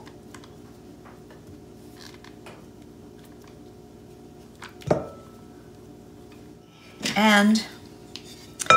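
Freshly churned homemade butter goes into a bowl: a quiet room with faint handling, a sharp clink of a dish, then a brief louder clatter, with a voice speaking briefly.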